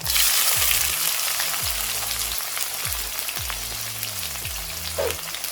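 Onions frying in a pan for coconut rice give a steady, close sizzle and crackle throughout, with occasional stirring scrapes and no talking.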